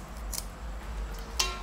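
Scissors snipping the stiff fins off tilapia fish, two brief crisp cuts over a low background hum.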